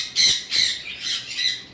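High-mutation lovebirds give four sharp, harsh squawks in quick succession, close and fairly loud, with no talking.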